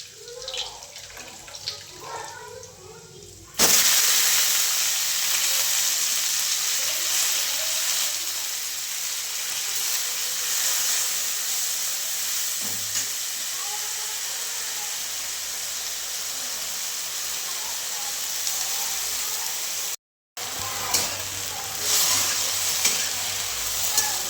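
Wild sarata leafy greens hit hot oil with a sudden loud sizzle, then crackle steadily as they are stir fried, with a brief break near the end.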